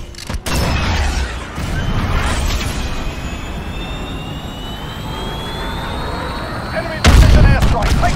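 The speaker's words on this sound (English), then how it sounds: "Missile away." A missile fired from a VTOL jet in a night battle at Hackney Yard in a combat video game: a heavy roaring launch rush that carries on, then a loud blast near the end. Radio voices sound faintly beneath.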